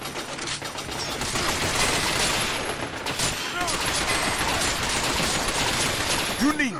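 Gunfire in the video game Binary Domain, dense continuous volleys of automatic shots with mechanical clatter, loud and close, with voices calling out over the shooting.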